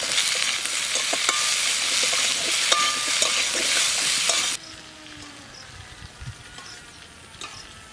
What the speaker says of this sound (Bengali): কলা তেলে দিয়ে ভেজে নেব।